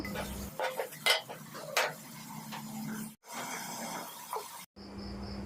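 A spoon scrapes and clinks against a pan while whole cinnamon, cardamom, bay leaf and coriander powder are stirred for a soybean and potato curry, giving several close, uneven scraping strokes over a low steady kitchen hum.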